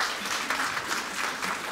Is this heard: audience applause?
yes